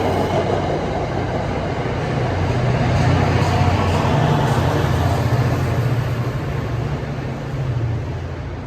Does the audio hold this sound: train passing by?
yes